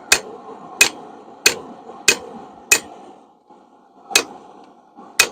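A one-pound hammer forging a spring fuller, seven sharp ringing metal strikes at a steady pace with a short pause before the last two, loud and close with no talk.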